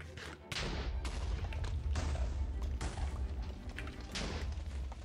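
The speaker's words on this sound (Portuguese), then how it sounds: "Dá para fazer aqui mais outra explosão." Repeated TNT explosions in the Minecraft video game, a run of loud booming blasts in close succession with crackling debris.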